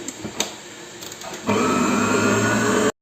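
A kitchen mixer switches on abruptly and blends marble cake batter, giving a loud, steady whirring drone that runs for over a second before cutting off, after a short stretch of quieter handling noises.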